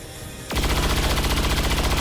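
Rapid gunfire in XCOM 2 starts abruptly after a half-second of low rumble, then carries on as a dense, loud, steady rattle of shots until the end.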